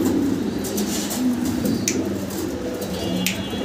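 Fancy pigeons in a loft give low, soft cooing murmurs under a steady background, with scattered light ticks and a few sharp clicks.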